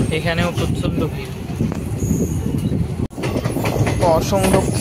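Intercity Express train 15603 from Guwahati to Ledo pulls into crowded Namrup railway station, with steady on-board wheel rumble, clickety-clack and brief squeals, and a voice talking over the noise throughout.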